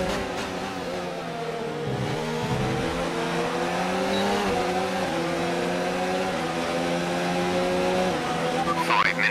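Formula 1 cars with a Honda engine race in the F1 2019 video game, high-pitched engines screaming and shifting through gears with rising and falling whines, loud and continuous with other cars passing nearby.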